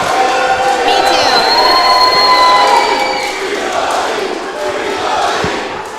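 A wrestling show audience roars and cheers loudly and nearby, with shouts and whoops, then settles to a lower, sustained crowd din.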